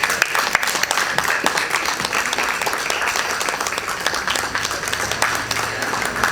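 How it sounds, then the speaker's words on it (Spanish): An audience at a book fair in Viña del Mar applauds continuously, a dense, even wash of many hands clapping at close range with no break. "Con ese aplauso despedimos al embajador cultural de Lautaro, Oscar Mellado, bombero insigne de Chile."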